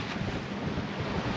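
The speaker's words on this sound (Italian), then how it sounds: "il vento, quel poco che c'è, ce l'abbiamo in faccia" Headwind blowing hard across a microphone aboard a sailboat at sea near Cagliari, a loud, steady roaring rush with wave wash mixed in, continuous for a brief moment with no voices.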